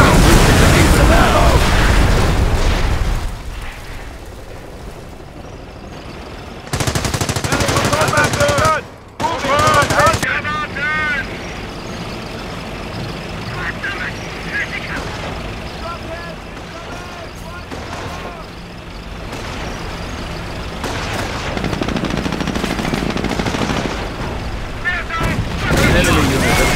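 Company of Heroes battle with loud bursts of machine-gun fire and booming explosions that come in heavy bursts and quieter lulls, along with voices talking at times.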